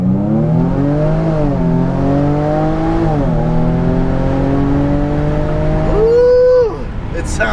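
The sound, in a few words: 2017 Jaguar F-Pace 35t accelerating in first gear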